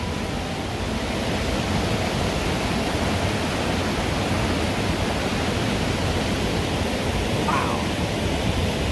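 A waterfall near Oye, Norway roars as a loud, steady, broadband wash of falling water, heard up close with no break and no talking.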